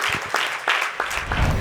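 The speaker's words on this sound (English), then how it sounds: "Round of applause as they leave the stage" An audience at an IEEE KSYP event applauds as speakers leave the stage, a brief burst of loud, close clapping that lasts under two seconds.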